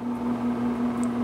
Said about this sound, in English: I got the pad thai coming up out of the microwave in a little bit.